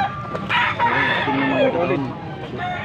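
A young rooster, an eleven-month-old stag, crows loudly and close in a short, rising-and-falling call at a Pampanga gamefowl sale, with a brief faint voice in the background.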